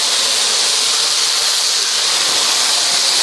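Jerk pork sizzling in a little oil on a hot DISC-IT flat skillet, a loud, steady, close hiss with faint crackles running throughout and no voices.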